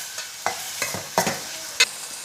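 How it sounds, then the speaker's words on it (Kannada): Tomatoes stirred and fried in a pan with purple cabbage dish makings, soft sizzle under several distinct scraping strokes of a spoon, four or five clattering stirs close up, no voices. "ಟೊಮೆಟೊ ಹಾಕಿ ಚೆನ್ನಾಗಿ ಮಿಕ್ಸ್ ಮಾಡುವ."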